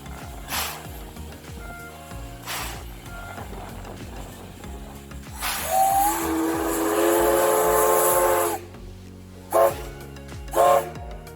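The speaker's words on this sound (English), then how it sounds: "watching the SL Taiju train make its way through the Nikko area. The steam locomotive runs on weekends" The SL Taiju steam locomotive in the Nikko area lets out a loud burst of hissing steam lasting a few seconds, followed by two short sharp bursts, amid rail clatter and chuffing.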